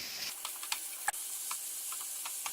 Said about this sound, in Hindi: लहसुन को 1 मिनट तक भूनेंगे